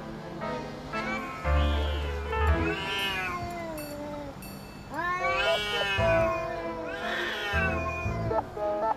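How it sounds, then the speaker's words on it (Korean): A cat lets out several long, drawn-out, wavering meows close by, rising and falling like a caterwaul, in two main bursts separated by a short pause. "고양이 들려"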